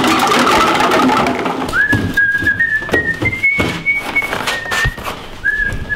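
A person whistles a wavering, sliding tune in short phrases over a background of rustling and knocking, with brief pauses between notes.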